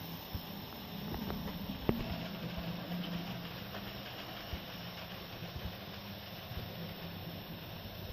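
A Norman J94 steam locomotive rolls slowly into the sidings on the Longmoor military railway. A low, quiet engine rumble carries on throughout, broken by a few faint clanks and one sharp knock.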